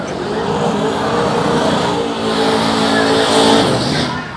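Street-legal road car at a Sick Week drag race in Florida accelerating hard, a loud sustained engine roar that swells in pitch and volume before easing at the close.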